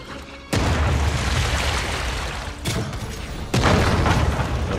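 Heavy rocket blasts in the video game Jagged Alliance 3, three loud booming explosions, each with a sharp onset followed by a sustained rumbling roar, close and forceful, with no talk.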